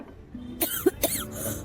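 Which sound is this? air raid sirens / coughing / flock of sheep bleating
coughing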